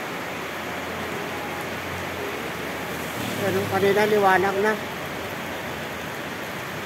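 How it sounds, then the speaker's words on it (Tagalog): Heavy rain pours down during Typhoon Enteng in a steady, hissing roar, with a person speaking briefly partway through over the downpour. "buhos na naman ang ulan"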